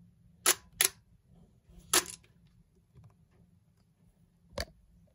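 A Nikon camera being switched off and on, heard as a few sharp, close mechanical clicks in a quiet room, two quick ones, then another, and a final click after a pause.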